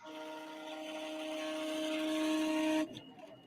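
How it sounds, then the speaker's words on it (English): A printer runs on a table, a steady whirring drone with strong tonal resonance that grows slightly louder for about three seconds, then stops abruptly, leaving faint clicks. "I don't like your printer. It scares me. I love that sound."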